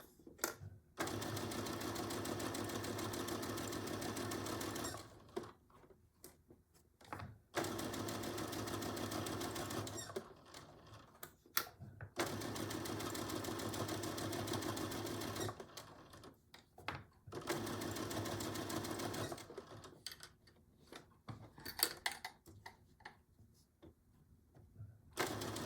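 A sewing machine stitches a Betty Boop pillow cover in several long, steady runs of rapid mechanical clatter, broken by short pauses, with no talk.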